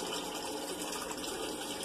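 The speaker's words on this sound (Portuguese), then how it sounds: "E a água tá correndo aí, né" Water runs steadily from a rotating PVC pipe faucet as a continuous, even rush of flow, close by, with no voices.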